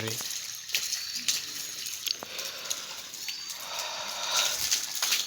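Water sprayed from a hose onto the walls of a house under construction on a cold morning in Konkan, a steady hissing wash running throughout with surges of spray, no speech over it.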